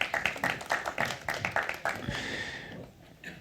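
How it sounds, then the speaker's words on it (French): An audience at a French startup panel discussion claps in a short, brisk round of applause welcoming a panel guest, with distinct hand claps that fade out after about two seconds. "on peut t'applaudir également"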